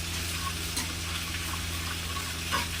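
Whole cumin seeds and panch phoron spices sizzle steadily in hot oil after potatoes were fried, a continuous close crackling hiss with a faint low hum beneath and no talking.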